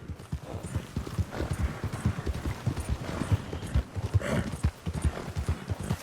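Horse hooves clip-clop in a fast, steady galloping rhythm from a mount in the Red Dead Redemption II video game, loud and continuous throughout with no talk over it.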